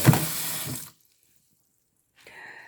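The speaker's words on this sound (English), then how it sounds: "So I would just run it with cold water to rinse the rice" Cold tap water running into a bowl to rinse sticky rice, a loud close splashing stream that stops abruptly, then a brief faint clatter after a pause.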